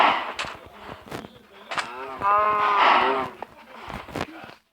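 Cows moo several times in drawn-out, harmonic calls, one long low moo in the middle, amid scattered knocks and shuffling nearby.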